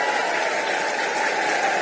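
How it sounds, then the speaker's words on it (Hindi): A large crowd at a Janata Dal United political rally in Gopalganj claps steadily to welcome Nitish Kumar, a dense, continuous wash of applause throughout. "एक बार जोरदार ताली बजाकर नीतीश कुमार जी का स्वागत करने का काम कीजिए"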